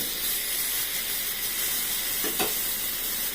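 Garlic and chili paste hitting hot salted oil in a pan while cooking a prawn dish, giving a steady, close, bright sizzle and hiss that continues throughout with a brief flare of spattering near the end.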